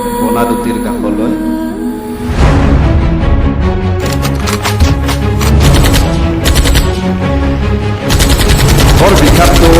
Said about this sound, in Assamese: চাৰিওফালে গুলীৰ আৱাজ ধুম ধুম